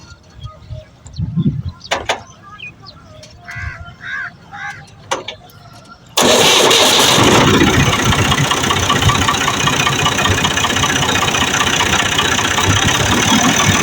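An Al-Ghazi 65 hp green tractor engine cranks and catches midway, then runs as a loud, steady, close diesel rumble; before the start come quieter clatter and faint bird chirps.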